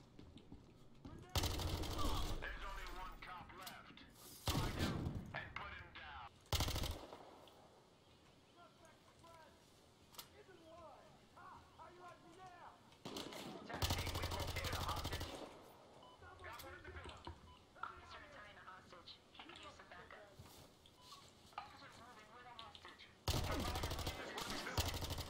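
Shotgun blasts and gunfire from the video game Battlefield Hardline multiplayer arrive as several loud, separate bursts spread across a long stretch of excited talking.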